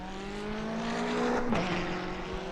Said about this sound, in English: Let's listen to the McLaren as he gets away. It's going to make an epic noise.